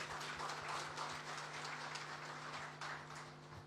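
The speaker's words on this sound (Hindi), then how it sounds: "मैं चाहूंगा आप सब लोग एक बार जोरदार तालियों से उनका स्वागत करें।" A festival audience gives Upendra a welcoming round of applause, a continuous wash of clapping held at a fairly even level over a low steady hum, fading a little toward the end.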